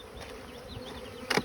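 Honey bees buzz at an opened hive, a close, steady drone with a short louder rustle near the end.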